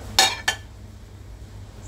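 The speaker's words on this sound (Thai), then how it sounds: "มาทำการแยกจานจานใหญ่จานน้อย" Two sharp ceramic clinks of plates knocking together, close and bright, as dishes fresh from a hot-water dishwasher are sorted into large and small, followed by a low background hum.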